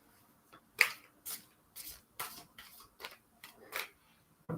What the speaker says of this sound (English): take the deck, split it, turn it over, put it back together again, and shuffle.